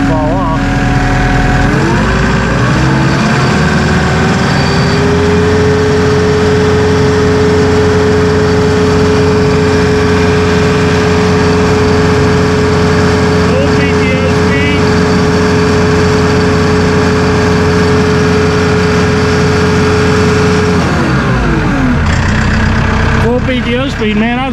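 Massey Ferguson 2850E compact utility tractor with a synchro shuttle and 48.8 hp engine runs steadily near at idle, a continuous loud diesel drone with a rising rev partway through and another near the end; someone talks over it.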